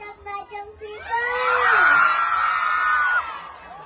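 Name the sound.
crowd shouting and cheering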